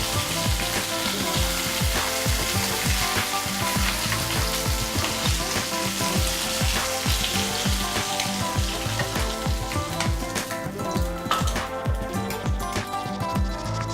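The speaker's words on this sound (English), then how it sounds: "The fish heads are cooked, so I am going to take them off the pan." Fish heads fry in oil in a pan, a loud, dense sizzle with rapid clattering and scraping layered through it, close and continuous with no speech.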